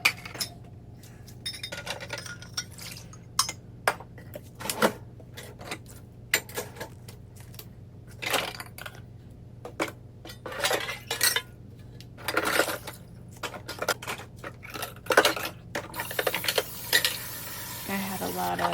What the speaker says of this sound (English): whatever didn't get cleaned, I just throw back in the sink like last time